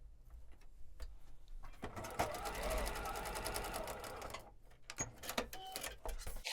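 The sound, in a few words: sewing machine stitching foundation paper pieced quilt block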